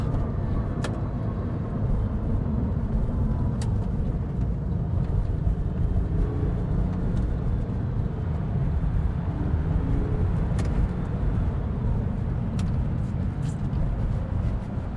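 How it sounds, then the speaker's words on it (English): A Porsche 996.2 with a 4.1L Hartech engine and ported heads cruises on the road, a steady low engine drone and tyre rumble heard from inside the car, with no speech. "whether under power and pushing it hard or just cruising along, this car feels great"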